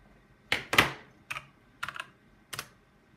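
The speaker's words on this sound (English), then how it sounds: "Let me type in the password." Someone types a password on a computer keyboard at an HP Pavilion PC: five loud, close, distinct keystroke clacks spaced unevenly across a few seconds in a quiet room, with no talking.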